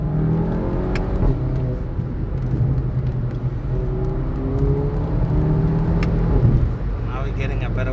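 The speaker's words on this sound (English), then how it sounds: "you can just pretty much accelerate out of curves like this, and the car will handle it." A VW Golf 7.5 GTI engine hums and builds steadily under ongoing talk, with road rumble and a rising rev as it accelerates out of a curve.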